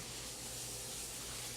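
A steady, faint hiss of steam and sizzling from broccoli and vegetables steaming in a pan with a little water, continuous and unchanging with no voices.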